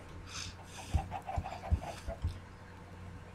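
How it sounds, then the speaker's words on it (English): Chickens cluck softly a short distance away in a loose series of short calls over faint outdoor noise, with a few low thumps in between. "Darn spy chickens."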